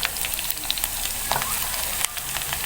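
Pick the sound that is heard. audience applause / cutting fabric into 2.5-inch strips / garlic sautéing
garlic sautéing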